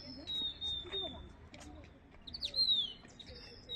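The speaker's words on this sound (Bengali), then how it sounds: "পাখি ডাকছে" Birds call in the evening along Mall Road in hilltop Shimla, with thin, high chirps and whistled tweets scattered irregularly. Each call is brief, and together they sound faint to moderate, some nearer and some farther off.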